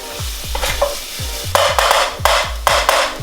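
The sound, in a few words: garlic and onion sauteing in olive oil in a pan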